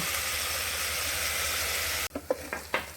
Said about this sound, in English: So I have been sauteing my onions for about, let's say, about 5 to 6 minutes.